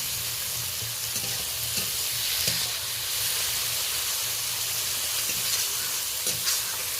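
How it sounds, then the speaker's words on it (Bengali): Ginger paste, onion, tomato and green chilli are stirred in a frying pan with a constant hissing sizzle, soft spatula scrapes, and a low hum running underneath. "আদা দিয়ে 2-4 বার ভালো করে নেড়ে নিলাম পেঁয়াজ, টমেটো, কাঁচা লঙ্কার সাথে।"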